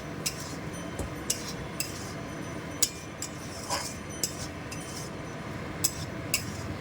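Potato pieces are stir-fried in spice masala in a pan for a green jackfruit and prawn curry. Scattered light clinks and scrapes of a utensil sound over a faint, steady background, close and fairly quiet.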